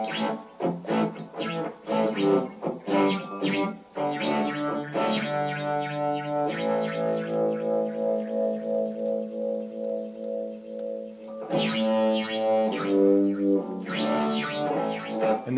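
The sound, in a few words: StewMac Light Cycle guitar pedal, photosensor metallic spinning effect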